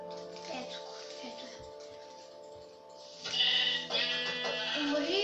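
Sheep bleat in a video game, with several short, wavering bleats at moderate loudness over a steady game background, and a louder, busier burst of bleating near the end.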